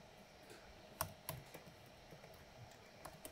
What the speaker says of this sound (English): I'm just gonna type rhodochrosite